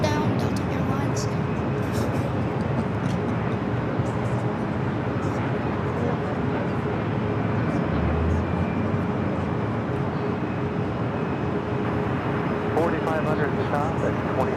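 A Delta Airlines jet on final approach to touchdown at LAX, a continuous broadband roar under ongoing commentary from a speaker.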